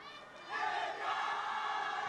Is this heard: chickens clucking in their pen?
no